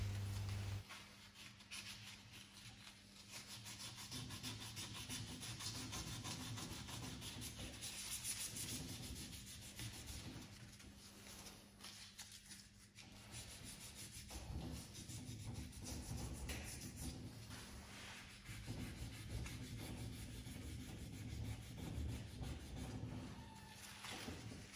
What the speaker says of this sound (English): Just keep sanding till the shine is gone and everything's nice and smooth.